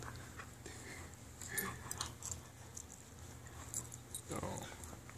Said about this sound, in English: Oh, I love puppies, Dory.